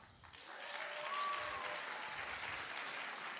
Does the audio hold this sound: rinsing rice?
no